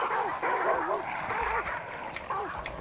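Dogs barking and yipping in the video game Hunt: Showdown, short bursts repeating through the clip under players' talk and game ambience.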